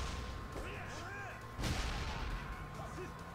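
Video game gunfire in Yakuza Kiwami 2, a dense, noisy barrage of shots with a loud burst partway through, mixed with game sound effects and voice chatter.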